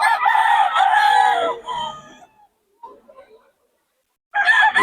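A Lemon Sweater gamefowl rooster crows loud and close, a long call that trails off into softer sounds, then a second crow begins near the end.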